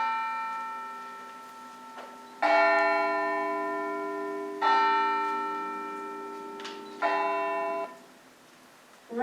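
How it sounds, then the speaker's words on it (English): Church bells ring out loud on a bright Christmas morning, three or four strong resonant strikes a couple of seconds apart, each hum decaying slowly, heard alone and close. "He was checking his transport by listening to the church's bells ringing"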